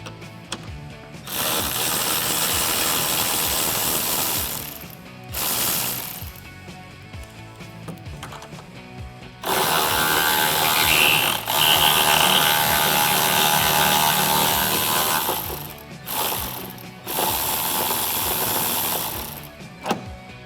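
A 10mm socket on a ratchet loosening bolts on a 2010-2018 RAM 2500, heard as rapid clicking pawl bursts in several long runs separated by short pauses, close and fairly loud.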